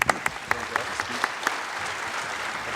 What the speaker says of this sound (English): let's give a round of applause to John Davis